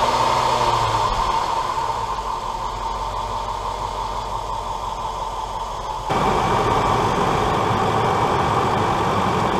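Land Rover 5.0 liter V8 starting and running at idle, a steady broadband engine drone that jumps louder and rougher about two-thirds through, with no voices.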